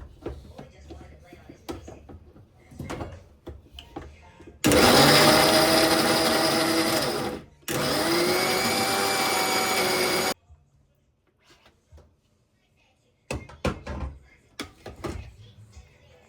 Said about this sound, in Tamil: ஸோ இப்போ இதை ஒரு சாஃப்ட் பேஸ்ட்டாக அரைச்சி எடுத்துக்கலாம்